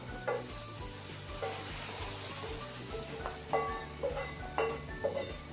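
Browned fried onions hitting a pot of beef nihari, a steady loud sizzle of hot oil with a few stirring scrapes and clinks near the end.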